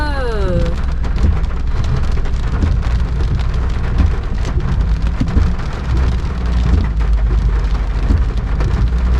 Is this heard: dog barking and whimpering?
no